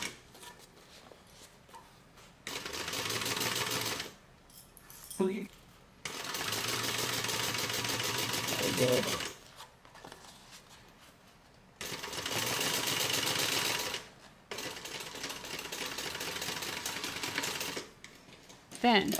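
A sewing machine runs in long steady bursts while stitching the long edge of a tote bag, stopping and restarting several times with brief pauses between runs. A person speaks quietly in the gaps.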